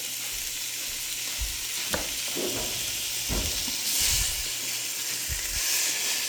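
Beef sizzles in a hot pan for beef and broccoli with a steady frying hiss, broken by a few stirring scrapes and clunks and swelling bursts of steam.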